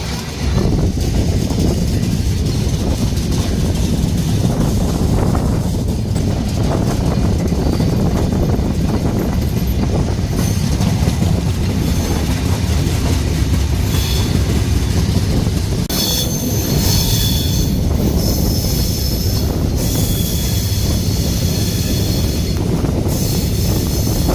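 Rupshi Bangla Express passenger train pulling out of Kamalapur station in Dhaka, a steady loud rumble of wheels on rails with squealing and wind noise throughout.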